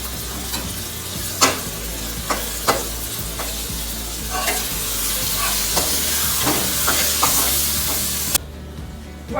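Garam masala, black pepper and green chilies roast in hot oil for chicken pulao, a bright continuous sizzle and hiss broken by sharp scrapes and taps of a spoon, cutting off abruptly near the end.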